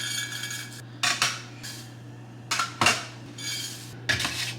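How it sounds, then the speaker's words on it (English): Rolled oats are portioned into meal prep containers in several separate bursts of clinks, rattles and rustling, with short pauses between scoops. "First thing we're gonna do is add rolled oats to all my containers."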